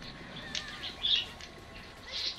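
Pet birds calling indoors, a few sharp high chirps and squawks in short bursts over a quiet room background, fairly faint and irregular with no talking.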